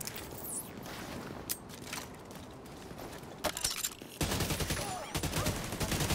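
Rapid automatic gunfire from a turret in The Division 2 video game, bursts of loud crackling shots that grow denser and heavier toward the end, with no talk.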